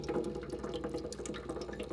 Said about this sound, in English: we also have this bubbler that provides oxygen and air